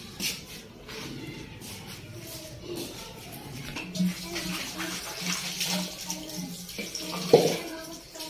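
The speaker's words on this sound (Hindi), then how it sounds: "उसके बाद जो है ना घड़े में पानी भरते हैं।" Water pours into a clay pot in a village courtyard in Punjab, Pakistan, a close splashing and gurgling that grows fuller, with light shuffling and a brief knock near the end.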